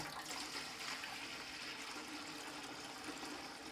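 Water being poured into a container to make neem water for cows: a quiet, continuous gushing splash that holds steady for a few seconds with no talking.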